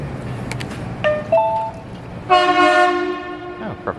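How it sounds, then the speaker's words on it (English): Seattle Center Monorail train arriving at the station, with rising tonal whines and a chime-like sustained tone over rolling rumble, fairly loud and close. "The train is arriving."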